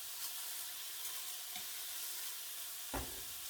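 Browned beef olives sizzle softly in a pot, a continuous faint frying hiss, with a sharper knock near the end as a piece goes in.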